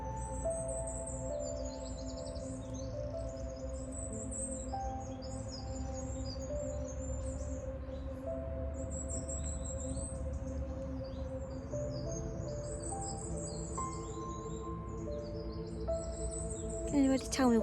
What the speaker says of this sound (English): Can anybody tell me what kind of bird this is?